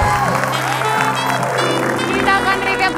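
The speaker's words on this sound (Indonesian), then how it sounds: "Tepuk tangan dulu untuk semuanya." Studio audience on a televised word game show applauding and cheering, a steady dense wash of clapping layered with a tonal music sting and a voice speaking over it.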